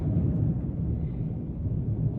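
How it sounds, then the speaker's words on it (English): Thunder rumbling outside during a storm, a steady low, muffled roll heard from indoors with no clear single crack, continuous and moderately loud throughout with no speech. "that's thundering outside."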